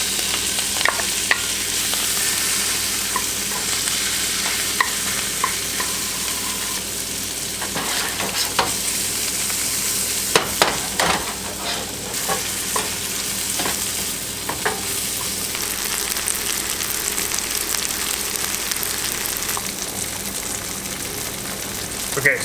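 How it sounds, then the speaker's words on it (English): Steady, close sizzling of green onion and fresh parsley frying in melted butter in a pan, a constant hiss with occasional pops and spoon clicks throughout. "We're just going to drop in our green onion and fresh parsley"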